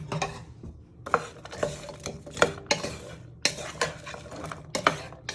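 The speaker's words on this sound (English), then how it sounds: "So first step is to fry your onions, garlic and celery. You want to give them a little bit of a toss." Onions, celery and garlic being stirred and tossed in a frying pan, a steady sizzle under repeated scraping clinks of a utensil against the pan, close and fairly quiet with no talk.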